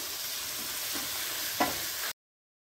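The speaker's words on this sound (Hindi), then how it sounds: "अपनी प्याज को और टमाटर को अच्छे से पकाएंगे, ज़्यादा कुक नहीं करेंगे, बस टमाटर गल जाएं तब तक" Onions and tomatoes sizzle and fry steadily in a pan for chutney, with a couple of brief stirring scrapes near the end of a constant hiss.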